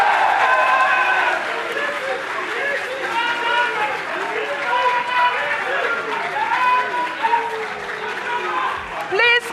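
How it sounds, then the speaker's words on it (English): Audience clapping in a hall during a school science and maths quiz competition, a sustained wash of applause with murmuring voices underneath, fading slightly toward the end. "Please clap for them."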